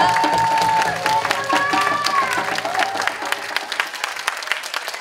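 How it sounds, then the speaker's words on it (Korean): An audience claps loudly at a Korean school curtain-call performance, dense applause fading slightly over a few seconds, with voices and cheers mixed in. "큰 박수 부탁드리겠습니다"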